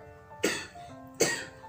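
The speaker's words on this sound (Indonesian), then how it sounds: "maaf ya aku batuk karena gatel banget" Two sharp, close coughs from one person about a second apart, each a harsh burst that tails off, with quiet between and no talking.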